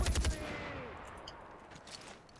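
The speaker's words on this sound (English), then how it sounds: "Whoa, bullet hits." Bullet hits in Far Cry 4, a quick cluster of sharp impacts at the start, then a fading ring and faint scattered ticks afterward.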